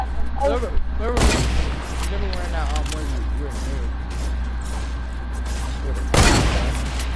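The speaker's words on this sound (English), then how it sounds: "I put a sniper. Now, sniping one." Sniper rifle shots in a multiplayer video game, two sharp broadband cracks about five seconds apart, loud and close, with players talking excitedly over steady game sound in between.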